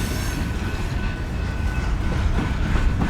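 A train passes close by, captured on a Zoom M3 MicTrak microphone: a loud, steady rumble of rolling rail cars with faint wheel clatter and squeal running throughout, no voices.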